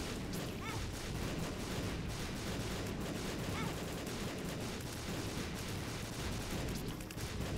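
Video game gunfire and explosions, a dense, continuous rattle of shots and booms, loud and unbroken for several seconds.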